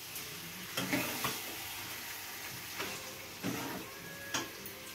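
Chicken frying in a pan with spice water, soft steady sizzle under repeated scraping strokes of a spoon stirring, fairly quiet and close.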